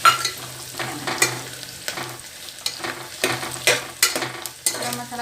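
Jungle chicken with garam masala is stirred in a frying pan, a spatula scraping in repeated strokes over a steady sizzle, close and fairly loud with no talking.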